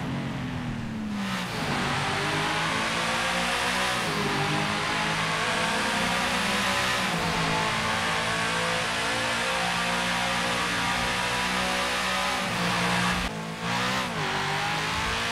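A Chevrolet Camaro SS engine in the video game GTA 5 roars loudly and continuously, climbing in pitch and dropping back at several gear changes as it revs hard. No voices are heard.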